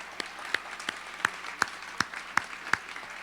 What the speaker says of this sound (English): a round of applause for yourself for being here